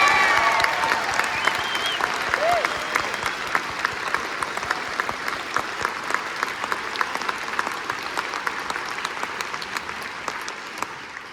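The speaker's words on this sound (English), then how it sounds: "So can we please have a round of applause for all the students on stage?" An audience at a senior honor band festival applauds students on stage, a long, full round of clapping that gradually thins and fades, with a few faint voices at the start.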